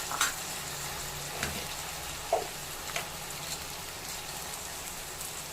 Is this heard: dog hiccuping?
no